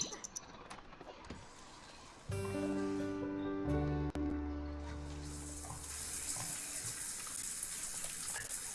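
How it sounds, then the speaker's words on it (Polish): Running shower water in The Sims game, a steady rushing spray that starts after a few seconds and continues evenly under background game sounds, with some talk. "Weź prysznic."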